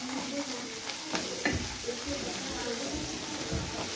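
Onion frying in a pan with turmeric and ginger-garlic paste being stirred in, a steady close sizzle broken by a few scraping clicks of a spoon, with a voice talking over it.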